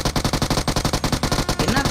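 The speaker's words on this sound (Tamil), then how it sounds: "என்னத்த ப்ரோ சுட்டுட்டு இருக்கீங்க அப்படி?" Rapid automatic gunfire in the mobile shooter BGMI hammers out in a fast, even burst of loud shots, continuous across the moment with no talking.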